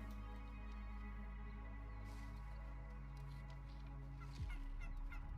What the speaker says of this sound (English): Got turkeys running all over the place.